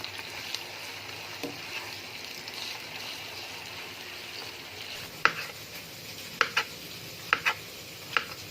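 Ginger, garlic and green chili paste frying with onions in a pan give a steady close sizzle, with a few sharp clicks of a spoon stirring and scraping in the later seconds.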